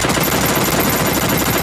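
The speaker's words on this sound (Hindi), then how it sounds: "AWM छोड़ के डबल वेक्टर चलाओ।" Double Vector submachine guns firing in the battle royale game Free Fire: a loud, close, unbroken stream of rapid automatic shots with no pauses, alone and without talk.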